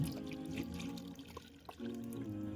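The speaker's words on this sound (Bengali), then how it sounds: "আমি ঢাকনা দিয়ে ছেঁকে নিচ্ছি" Bael fruit sherbet trickles through a sieve, a soft continuous patter of liquid with faint drips and small clinks, quiet and close.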